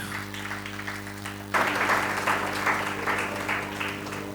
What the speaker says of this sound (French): Donc merci et sous vos applaudissements